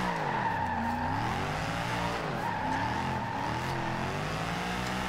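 A Mercedes C63 AMG drifting sideways in Forza Horizon 2, with sustained tire squeal wavering in pitch over a steady engine drone, loud and continuous without talk.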